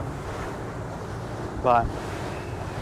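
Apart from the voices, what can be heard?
ocean waves rolling a crab boat broadside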